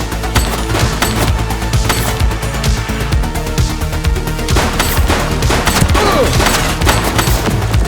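A suspect's gunfire in a police video game, a dense, loud fusillade of rapid shots and impacts that continues without pause.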